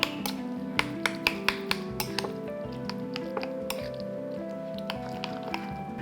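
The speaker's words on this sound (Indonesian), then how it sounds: "Lalu kita akan aduk rata." A chicken marinade of soy sauce, sugar, dashi powder, ginger water and garlic is stirred in a bowl, giving wet squishing and repeated light clinks of utensil on dish, close, with a low steady hum behind.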